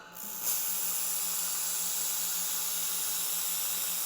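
An xTool MetalFab 800W laser welder runs on thin aluminum, giving a steady, loud hiss with a faint low hum that holds for several seconds, with no talking over it.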